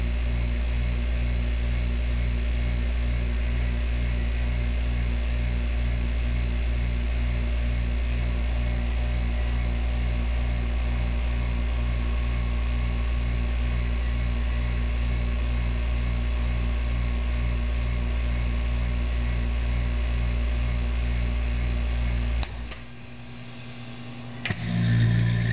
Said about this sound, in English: So it's pumping down the vacuum right now